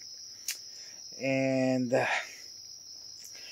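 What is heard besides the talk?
crickets chirping at night before rain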